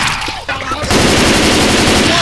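Gunfire in the video game Left 4 Dead 2 breaks out as sustained, loud automatic fire that starts abruptly partway through and continues unbroken, with brief game voices heard before it.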